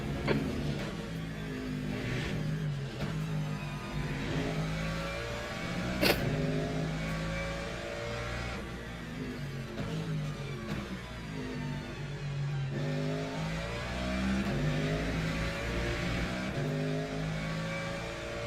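Ferrari race car engine in the Le Mans Ultimate video game racing at Imola, revving steadily with rising and falling pitch through gear changes, a continuous close drone.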